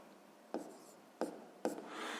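A pen scratches out a math solution on paper in three short, quiet strokes, each followed by a faint trailing scrape, with no talking.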